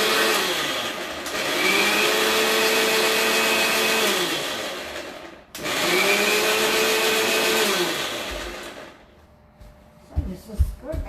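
A kitchen blender grinds ingredients without added water in two loud, close runs of several seconds each, separated by a brief pause, then stops and leaves a few soft clunks.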